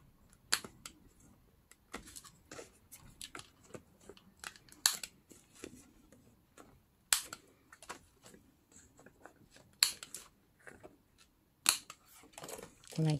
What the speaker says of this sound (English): I'm gonna take my paper punch and punch the corners of this two flying thingy.